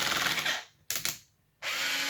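A slow power driver whirs steadily, cuts out, gives two short ratcheting bursts, falls silent, then starts whirring again, close up, undoing the skid plate screws of a Traxxas X-Maxx RC truck.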